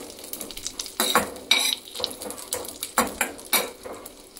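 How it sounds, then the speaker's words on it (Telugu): Cashews and raisins fry in a pan, a soft sizzle broken by several sharp metallic scrapes and clinks of a spoon against the pan at an uneven pace, close and fairly loud. "ఎండు ద్రాక్ష వేసి ఒక నిమిషం వేయించుకోవాలి"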